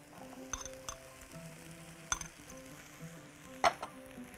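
Vegetables sizzle softly in a frying pan with garlic as eggplant is added, a low steady frying hiss broken by a few sharp clinks of a utensil against the pan, with no talking.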